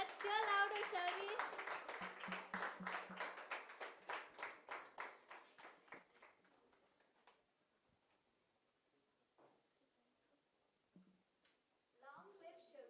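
School audience clapping for a children's poem, a dense burst of applause that thins into scattered claps and fades, with a few isolated claps afterward.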